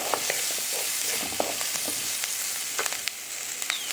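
Onions sauté in a pan for chutney, giving a steady close sizzle with scattered clicks of stirring. No one speaks.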